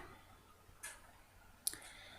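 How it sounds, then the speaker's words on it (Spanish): Two sharp, quiet computer mouse clicks spaced about a second apart over a faint room hum, with no voice. "y damos clic en editar."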